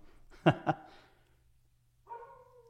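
A puppy in a backyard outside a studio gives two quick close barks, then a short whining yip a moment later, in an otherwise quiet room.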